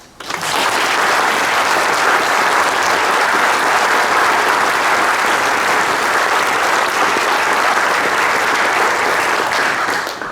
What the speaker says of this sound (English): So I ask for your applause.